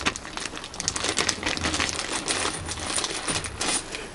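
Metal Allen bolts with 6mm threads being handled and jostled together, a dense run of small clinking and rattling taps close by, continuing with no talking.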